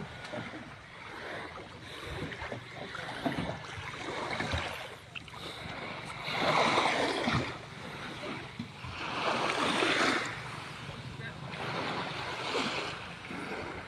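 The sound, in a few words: sea waves at a marina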